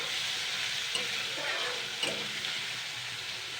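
Leftover rice fries in a pan for Bengali bhat bhaja pulao, a constant close sizzle with light stirring scrapes and a couple of soft knocks, no one speaking.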